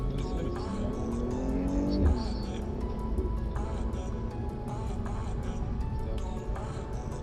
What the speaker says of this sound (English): 40 miles an hour, I'll set to brake. Hard on those brakes.